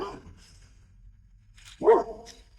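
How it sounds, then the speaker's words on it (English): A farm dog barks out in a field, giving one short bark partway through against quiet outdoor background, moderately distant and fairly faint. "she notices one of the farm dogs is barking at something in the right side of the field"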